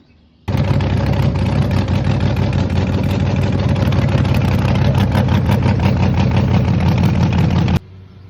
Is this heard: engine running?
yes